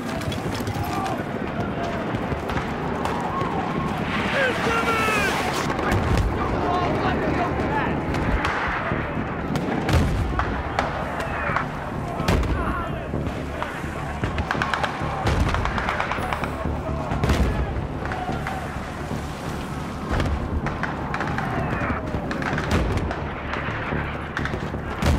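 Battlefield 3 combat with mortar and artillery fire, a dense continuous barrage of booming blasts and gunfire, with shouted voices over the din.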